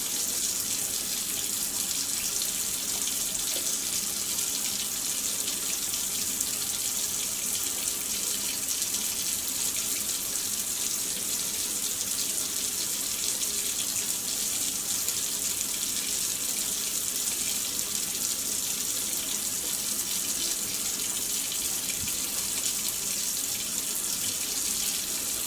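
Tap water running steadily into a sink during a surgical hand scrub with chlorhexidine, a constant, even splashing hiss close by with no pauses and no talking.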